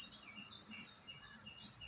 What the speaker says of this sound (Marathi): असं रातकिड्याचा आवाज आल्याशिवाय असं गावी आल्यासारखं वाटतच नाही बघा.